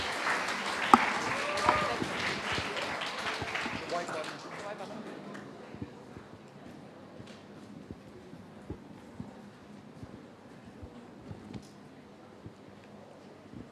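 Audience applause for a school club at a club expo, loud and dense at first with many overlapping claps, then thinning out to a faint scattered patter over the last several seconds.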